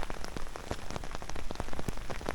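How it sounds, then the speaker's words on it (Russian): Steady rain falling on a mountain trail near a gorge, with dense pattering drops hitting surfaces close by, continuous and fairly soft throughout. "Идет хороший дождик."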